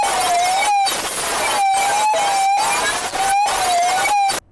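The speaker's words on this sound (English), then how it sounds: "the sound of the input, a microphone, feeding back into the output, which is the speakers, and doing that in an infinite loop." No-input mixer feedback loop from a mixing desk routed back into itself, giving a loud, continuous harsh tone with a wavering, siren-like pitch, repeatedly cut off by short silent gaps in a rhythmic pattern.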